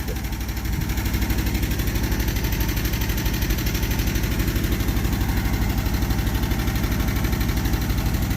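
The engine of an abandoned 1973 Dodge Ramp truck runs after cranking, a loud, rough, steady chugging idle close up that continues throughout.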